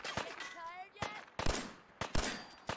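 Several sharp, loud gunshots ring out at uneven intervals during a firefight with bandits in Fallout 4, each crack standing out clearly against the quieter background of the game.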